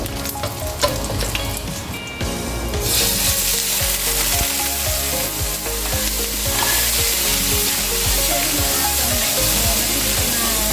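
Tofu and mushroom frying in a pan make a strong, dense sizzle with spatters and scraping stirs, steady for several seconds after an opening clatter.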